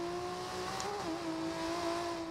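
Engine of an RB26-swapped BMW E36 M3 in Forza Horizon 2, running with 25 psi of boost: a steady, moderately loud drone with a brief pitch dip and recovery midway, no talk over it.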